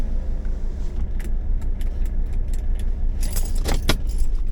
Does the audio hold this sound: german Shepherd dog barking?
no